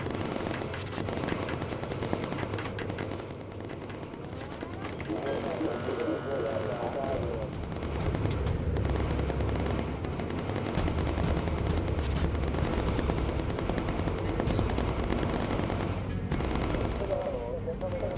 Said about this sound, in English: Got some fighters milling around underneath us. Absolute machine gun.